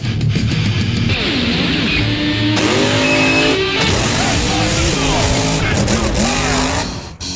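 Diecast toy monster trucks race with loud, continuous engine-like roaring and revving, pitched sweeps and squeal-like bursts throughout, mixed with excited commentary or voices.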